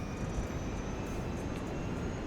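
Jet aircraft engine in Kerbal Space Program throttling up, a steady, broad roar that holds even and continuous with a faint high whine riding on top.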